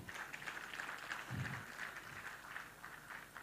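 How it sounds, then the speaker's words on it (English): Audience clapping at a stakeholders forum in Abuja, a faint, steady patter of applause from a crowd in a hall, continuous throughout with no voices over it. "I think we can clap a little more for him"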